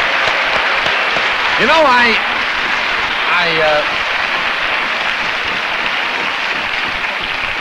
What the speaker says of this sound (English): I got to clap for you.